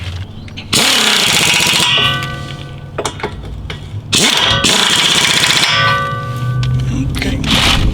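An impact wrench hammers bolts tight on Smittybilt XRC Atlas rock sliders on a Jeep Wrangler JK, in two loud, rattling bursts of several seconds each, separated by a short quieter gap.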